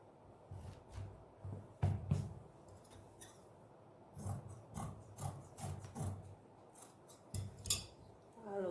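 Scissors snip through fabric while a sleeve for a Pakistani-style outfit is cut, with a series of close, crisp cuts in uneven bursts and short pauses between them, and no talk.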